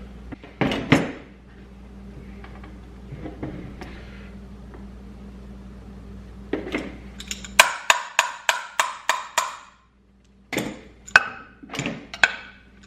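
Screwdrivers pry apart a Honda Grom engine case, giving scattered metallic knocks and scrapes followed by a quick series of sharp clicks and taps, close and fairly crisp against a low background hum.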